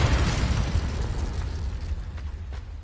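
A Confringo blasting spell exploding in a Harry Potter video game, with a loud, sustained rumbling blast that slowly fades.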